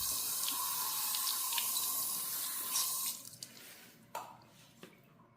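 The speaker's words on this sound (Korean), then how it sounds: "이렇게 하고 한번 헹궈 볼게요" Running water rinses rust-stained car paint after chemical scrubbing, a steady close splash and spray that cuts off around three seconds, leaving a few scattered drips and taps.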